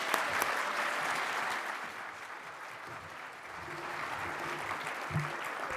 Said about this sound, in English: Join me in applauding all these digital equity champions one last time.